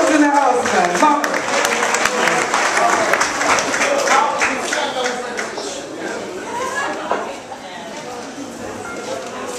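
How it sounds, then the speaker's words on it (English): Comedy club audience breaks into loud applause with scattered cheers and chatter, clapping strong at first and gradually thinning out, with voices mixed in. "So please, one round of applause to mamas."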